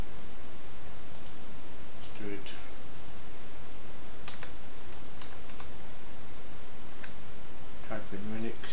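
Keys on a computer keyboard are pressed in short, irregular bursts of close clicks, separated by pauses and set against a constant background hiss.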